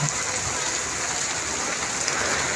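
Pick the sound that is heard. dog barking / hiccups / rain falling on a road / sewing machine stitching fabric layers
rain falling on a road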